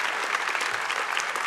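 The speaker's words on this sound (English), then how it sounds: "that is an applause line as well" Steady, dense audience applause at an award ceremony, sustained and fairly loud throughout with no talk over it.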